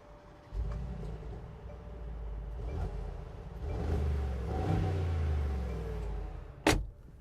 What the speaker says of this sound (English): let's turn this thing on and let's do an exhaust run just like the other one